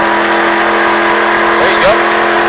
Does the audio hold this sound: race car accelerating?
yes